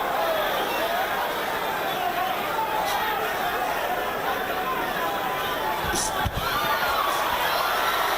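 Arena crowd at the Jones vs Griffin boxing match, a loud, continuous roar of cheering and excited chatter that holds steady throughout.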